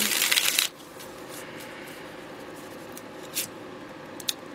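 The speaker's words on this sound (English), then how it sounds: "One more shuffle." A deck of tarot cards is shuffled in a quick riffle at the start, followed by quiet pauses and a couple of soft card snaps.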